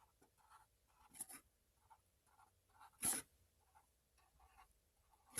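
A pen scratches out short, quiet strokes on paper, drawing small items in groups for a multiplication lesson, with soft repeated bursts and a couple of sharper taps.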